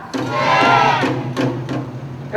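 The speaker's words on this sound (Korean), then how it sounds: "힘찬 함성 보내줄 수 있겠습니까?" A crowd of parents at a disability education rally in Jeju lets out a loud, sustained collective roar of cheering, with a few shorter shouted bursts following as it trails off.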